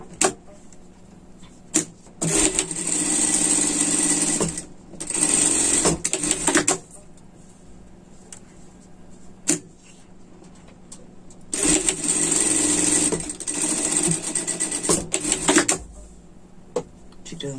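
Sewing machine stitching seams on a pet sweater, running in several short bursts of rapid stitching separated by pauses with handling sounds.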